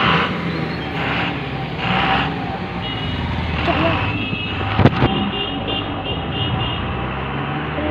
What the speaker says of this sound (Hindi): अगर हटो ना गाड़ी जा रहा है।